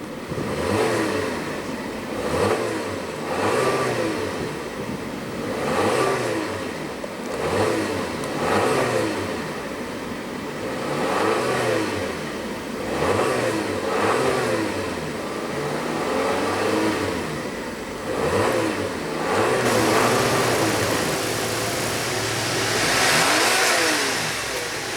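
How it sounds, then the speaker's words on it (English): A 2015 Audi Q3 with a 2.0 L four-cylinder turbo engine revs repeatedly, each blip rising and falling in a regular pattern for the full stretch, loud and close with no talking. "let's go ahead and see what kind of engine note she makes."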